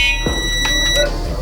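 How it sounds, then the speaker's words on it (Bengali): A multimeter continuity tester beeps on a fully shorted mobile phone, giving a steady high electronic tone through the whole moment alongside brief clicks, with background hum present. "আপনারা শব্দ অবশ্যই শুনতে পাবেন মিটারের"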